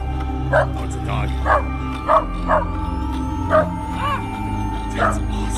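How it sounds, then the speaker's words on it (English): A dog gives a series of short, evenly spaced barks and yips, about one each second, over a steady background hum, with speech mixed in. "Oh, it's a dog."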